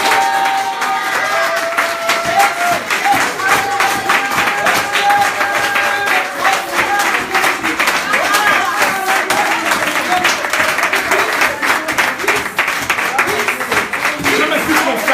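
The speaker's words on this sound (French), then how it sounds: "acclame pour le Seigneur de gloire." A church congregation cheers and applauds loudly and continuously, a dense, steady wash of clapping and shouting voices, with a preacher's voice rising over the crowd.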